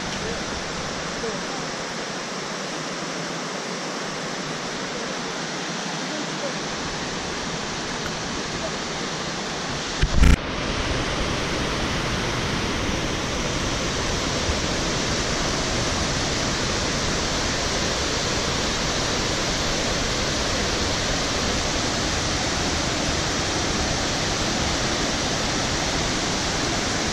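Nauri waterfall on the Manaslu trek in Nepal roars as a steady, loud wash of broadband noise throughout, with a brief sharp knock near the middle and no voices.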